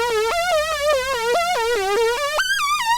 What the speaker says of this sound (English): Now pitch modulation would basically sound like this.